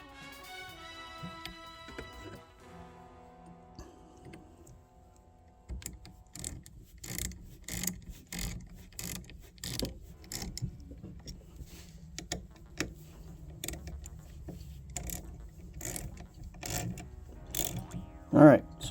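Bolts on a Knight Rider gullwing car door are tightened with a wrench, a run of dry ratcheting clicks in uneven bursts, fairly close and quiet, ending with a sharper knock.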